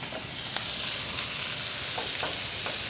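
Sausages frying in a hot cast iron pan, giving a steady close sizzle and crackle with a few brief sharper pops and tong clinks throughout.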